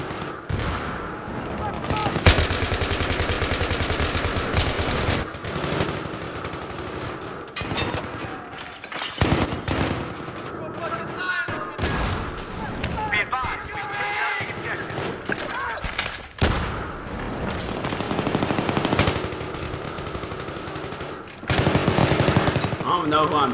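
Dense, continuous gunfire from Battlefield 3 on Xbox One: machine-gun bursts and heavy booms crowding a loud battlefield for the whole stretch, with a player's voice talking over the shooting.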